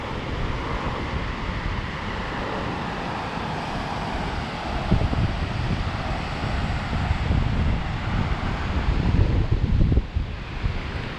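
Wind blusters over the sea at Laweung beach in Pidie, a constant rushing hiss with the surf swelling louder around the middle and again near the end, no talking.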